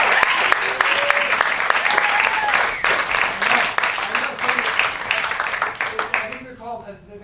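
An audience claps for the lighting and sound crew at a live show, a thick burst of applause with a few whoops that thins out and fades near the end, while a voice talks over it.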